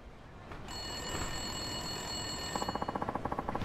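A public phone booth telephone rings in Yakuza 5 over steady street ambience. A faint tone comes in first, then rapid trilling bursts of the ringer repeat near the end, with no talk.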